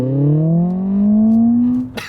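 A smart #1 Brabus electric car pulls away hard from the traffic lights on its way to 62 mph in 3.9 seconds, its loud motor whine rising steadily in pitch up close before a soft thump at the end.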